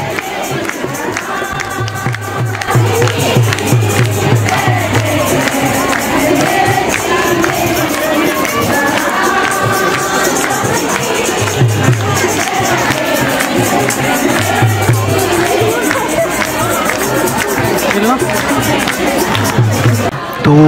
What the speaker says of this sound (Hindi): सभी राम जी के भजनों को गा रहे हैं, श्री राम जी के नारे लग रहे हैं